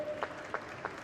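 Applause at a Tokyo 2020 Paralympic boccia BC2 individual match: three sharp, evenly spaced claps ring out in a quiet arena.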